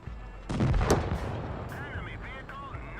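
Tank cannon fire in the World of Tanks Blitz game, a German Tier 4 Pz4 D medium tank trading shots: a loud booming shot with a sharp crack, followed by a decaying rumble and faint mechanical whirring.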